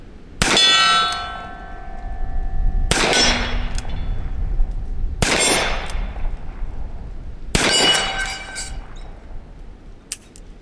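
Four loud Ruger Super Blackhawk .44 Magnum revolver shots, each followed by the long metallic ring of a struck steel target, spaced a couple of seconds apart outdoors, with a faint extra clink at the end.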